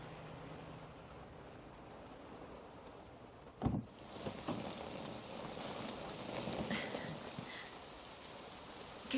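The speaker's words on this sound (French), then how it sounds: "Qu'est-ce qu'il pleut?" Steady rain falls and patters on a surface, a dense broadband hiss that is quieter at first, then swells louder after a brief thump and stays heavy to the end, with no voices.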